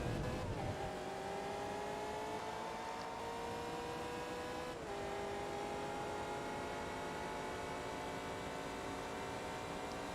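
Race car engine in Forza Motorsport 2 holds a loud, steady drone with smoothly climbing pitch, one brief dip as a gear shifts, then continues rising.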